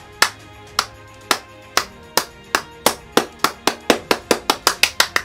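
Sharp hand claps mark a jumper's foot contacts with the ground, starting as slow, evenly spaced single claps and then quickening steadily into a rapid run of about twenty crisp, close strikes.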